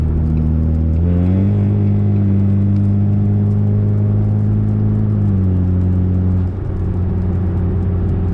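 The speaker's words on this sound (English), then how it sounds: "Beautiful exhaust, I know." A car engine with a custom single-exit exhaust revs up, holds a steady droning tone for several seconds, then drops back toward idle, loud and close with no talking.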